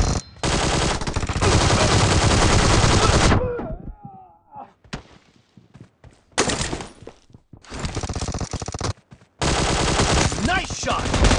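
Loud, sustained automatic gunfire from the mobile battle royale game PUBG Mobile, in long dense bursts broken by a short quieter gap with scattered sounds, then more sustained firing.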